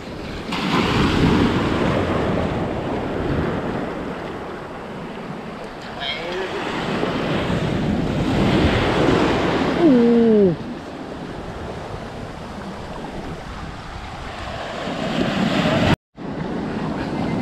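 Ocean surf crashes continuously at Bãi Dài beach in Cam Lâm where fishing nets are being hauled, a loud rushing wash mixed with wind buffeting the microphone, with people talking at times.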